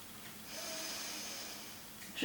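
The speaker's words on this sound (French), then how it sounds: "Une dernière respiration." A person takes one slow, deep breath during a Pilates exercise, a soft, close airy inhale and exhale in a quiet room.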